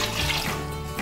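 Water pouring into a cooking pot over ox tongue, a brief close splashing gush with a running-tap quality, loud and continuous for about a second.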